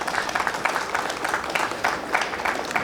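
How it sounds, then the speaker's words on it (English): Sustained applause from an audience honoring women achievers at an industry gathering, dense steady clapping filling the room throughout with no break. "give a round of applause to the girls who are real achievers"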